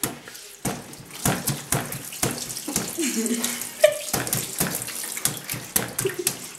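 Tap water runs and splashes steadily through a grandfather's bath at home, with bursts of sloshing and dripping nearby. Voices talk over it now and then.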